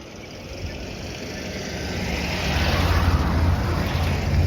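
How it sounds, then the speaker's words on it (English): A school bus approaching on a road outside, its engine rumble growing steadily louder and closer over a few seconds with no talk. "I hear the school bus coming"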